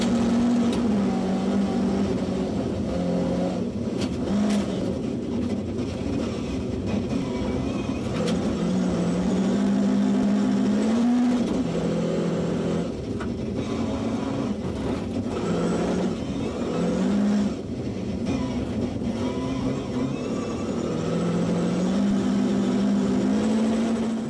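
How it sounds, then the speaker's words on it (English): Jaska Nuorala's Volvo rally car on the first stage of a Finnish F Cup 2011 rally, an engine droning loudly and steadily with rising and falling revs for about twenty seconds, no talking. "Now we take a ride in Jaska Nuorala's Volvo through the first stage."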